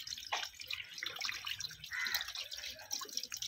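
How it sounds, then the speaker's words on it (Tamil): Tap water runs and drips into a sink while a puppy's paws and mouth are washed after lunch, a steady close splashing with brief louder gushes and no talk. "கை கழுவு கை கழுவு."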